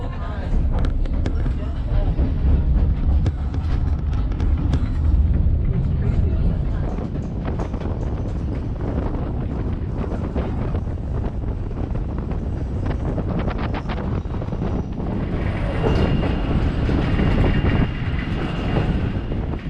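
Steady rumbling and clatter of a train climbing a mountain route in Alaska, continuous and close, with wind buffeting the microphone throughout.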